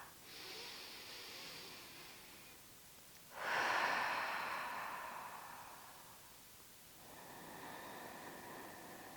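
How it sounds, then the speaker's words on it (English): Slow Ujjayi yoga breaths, each a soft airy hiss through a constricted throat, heard close and alone: a long inhale, a stronger drawn breath near the middle, then another gentle exhale-like rush. "you can continue that Ujjayi breathing if you would like"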